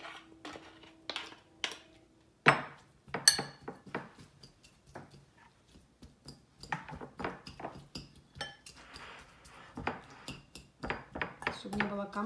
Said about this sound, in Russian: надо его размять вилочкой, чтобы он был мягенький